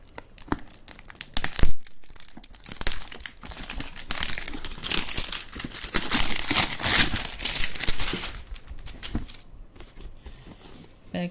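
Packaging for a GoPro HERO9 Black waterproof action camera is unwrapped, with bursts of plastic crinkling and tearing that swell and fade irregularly, close and fairly loud, with no talking.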